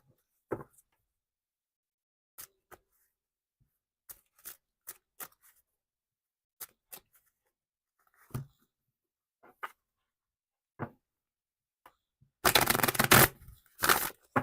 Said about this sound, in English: I think that's a great shuffle.